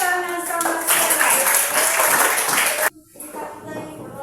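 Group applause in an Indonesian Christian religious education class, a dense burst of clapping over a faint voice that stops sharply, followed by quieter room sound.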